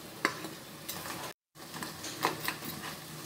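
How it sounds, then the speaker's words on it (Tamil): Soft scraping and sizzling as ground masala is stirred with crab in a hot frying pan for crab gravy, with a few light clanks of a utensil and a brief silent gap. "இப்போ இந்த அரைச்ச மசாலாவை இந்த நண்டோட பெரட்டிக்கலாம்."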